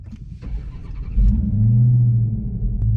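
A supercharged 2020 Dodge Charger Daytona Hellcat Widebody fires up, a short crank giving way to a loud, deep rumbling idle heard close up and alone.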